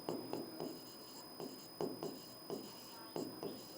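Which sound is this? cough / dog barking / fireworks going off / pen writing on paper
pen writing on paper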